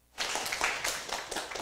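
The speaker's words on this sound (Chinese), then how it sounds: "我们以热烈的掌声欢迎徐老师" An audience applauds in welcome of a lecturer at a Taiwan history class, a dense burst of clapping that starts abruptly and holds steady for a moment.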